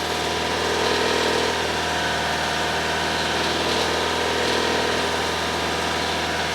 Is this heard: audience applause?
no